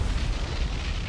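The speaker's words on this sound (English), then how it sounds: "Fubuki got what she deserved, a magazine explosion" A warship's magazine detonating in the naval game War on the Sea, a dense, sustained low rumbling roar of blast and fire that stays loud and steady throughout with no voices.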